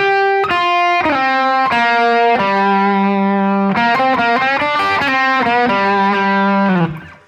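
A 12-bar blues lick in G on an electric guitar through a Les Paul bridge pickup, played with distortion and effects: sustained, bending notes in a steady phrase, loud and close, ending on a fading held note with no talk.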